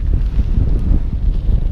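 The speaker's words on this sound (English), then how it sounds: "That's windy." Strong wind roars and buffets the microphone on a mountain bike ride through Guisborough Woods, a steady low rumble with gusty surges throughout and no talk.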